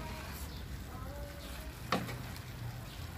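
Beef and broccoli in a pan, thickened with dissolved cornstarch and being stirred, frying with a steady low sizzle and one brief scrape of the utensil partway through; no one speaks.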